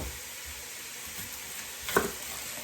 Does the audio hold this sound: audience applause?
no